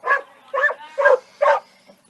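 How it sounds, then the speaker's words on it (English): A dog barks four times in quick succession, fairly loud and close, with a faint yelp trailing after, at a high school baseball game between Resurrection Christian and Brush. "I think the dog didn't like the call either"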